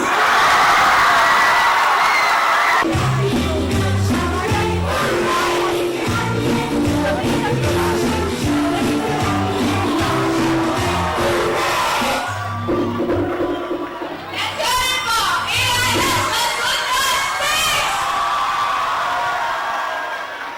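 A crowd of children and adults cheers, whoops and shouts loudly at a school award ceremony, in repeated swelling bursts with music-like tonal patterns and a short lull partway through.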